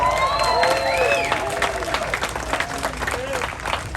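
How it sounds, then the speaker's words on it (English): A crowd claps and cheers for Noel at a music history event, applause fading as it goes, with speech and whoops layered over it. "Let's give Noel a round of applause"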